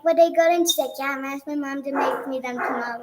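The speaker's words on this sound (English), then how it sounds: "If you hear our dogs barking" Dogs bark several times, loud and close, mixed in with a woman's and a child's conversation at home in Mexico.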